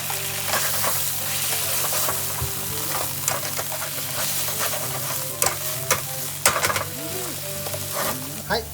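Spicy konjac stir-fried in a pan with sesame seeds as the liquid cooks off, a continuous close sizzle with frequent scraping and stirring clatters throughout, no talking.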